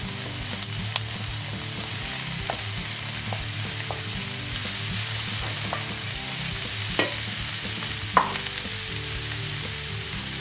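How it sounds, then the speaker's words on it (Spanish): Mushrooms sizzle in a pan with diced red pepper and onion for a vegan vegetable sauté, a loud, continuous frying hiss with occasional stirring clicks and pops. "Cuando el pimiento y la cebolla ya estén un poquitín hechos,"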